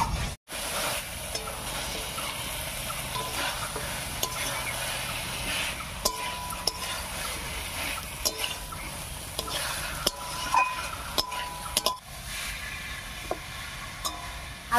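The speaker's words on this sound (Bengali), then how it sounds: "আলু আর পটলের সঙ্গেও মশলাটাকে ভালো করে কষিয়ে নিয়েছি" Potato and pointed gourd stir-fry with spices in a pan: a continuous sizzle with intermittent spoon scrapes and knocks against the pan, moderately close, with no speech.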